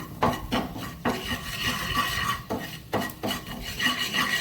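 Turmeric powder and salt are mixed in a dish with a spoon, repeated rasping scrapes and rubs against the surface in an uneven rhythm, close and alone.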